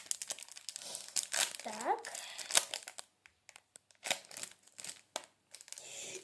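A packet being unwrapped up close, with bursts of crinkling and tearing plastic over the first three seconds, then sparser crackles and rustles. A voice speaks under the wrapper noise.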